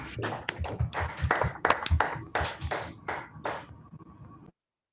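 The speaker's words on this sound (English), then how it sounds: "give a round of applause for a wonderful talk" Online audience unmuting together for a round of applause after a mathematics talk, a few seconds of scattered, uneven clapping from several participants that stops abruptly.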